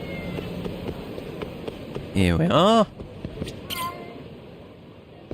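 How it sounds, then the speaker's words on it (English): A cat in the video game Lost Judgment gives a couple of short, clear meows, loud against a game's background ambience, with someone briefly talking. "Oh, there's cat here?"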